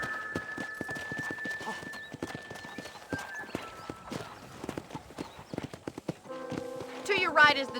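Horse hooves clip-clop steadily as a rider travels through a Red Dead Redemption ranch, with periodic neighs and game music rising near the end, and a character's voice talking over the hoofbeats.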